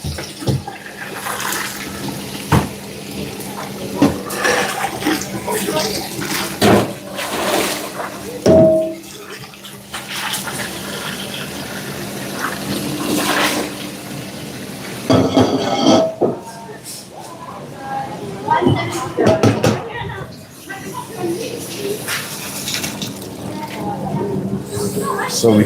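Cold tap water runs and splashes over pasta that has just been strained in a busy work kitchen. The flow is loud and steady and comes with clatter, and a voice talks over it now and then.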